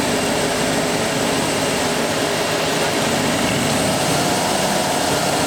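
A Ford EEC-IV engine revved slightly as RPM is raised while testing for an ignition misfire, a loud, steady, broadband engine roar with no talking.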